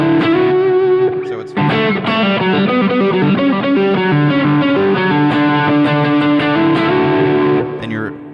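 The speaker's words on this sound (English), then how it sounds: "there's going to be a sliding lick that's going to be different." Distorted electric guitar plays a sliding lick from a song for several seconds, loud and sustained with gliding pitch changes. A brief spoken voice cuts in at the very start.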